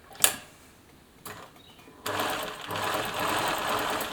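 A Bernina Nova 900 electronic sewing machine starts up and runs in a steady, fairly loud whir of stitching after a couple of sharp clicks and a short quiet pause.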